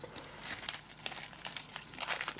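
A plastic zip bag holding beads and felt crinkles close up in quiet, irregular rustling bursts, with no one speaking.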